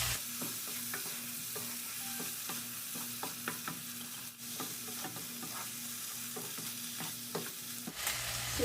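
Head-on shrimp with the fat removed, seasoned with black pepper and a little salt, sizzles steadily in a pan, with scattered spatula clicks and scrapes through the frying.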